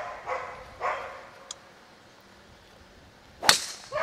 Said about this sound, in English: It's like a Labrador. It's a collie. Border collie.